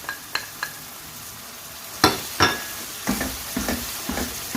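A spice masala with yogurt and a little tamarind fries in a pan for prawn biryani, a low sizzle broken by sharp scraping and knocking strokes of a spoon stirring against the metal.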